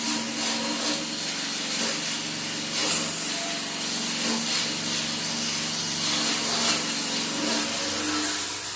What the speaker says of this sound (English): I do have a heavy set wire wheel. Make sure it gets a lot of that rust off so I can weld.